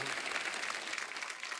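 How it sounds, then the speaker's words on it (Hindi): A comedy show studio audience applauds loudly and steadily, a dense wash of clapping throughout the short stretch. "जोरदार तालियां"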